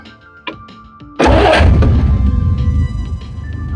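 An engine cranks after a few clicks, then catches and settles into a loud, close idle with a rumbling low throb. The car is getting a new gauge set to check oil pressure.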